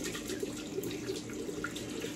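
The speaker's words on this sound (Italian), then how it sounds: "sciacquo anche il pennello un attimo per dargli un po' d'acqua" A shaving brush being rinsed under a running tap, with a steady close splashing water stream that runs continuously and evenly throughout, no voices.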